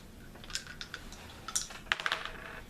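Dice rolled during a Memoir '44 board game, giving several quick, light rattling clicks in short bursts, fairly close, with no talk.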